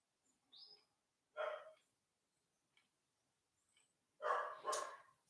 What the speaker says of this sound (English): My dog saying good morning.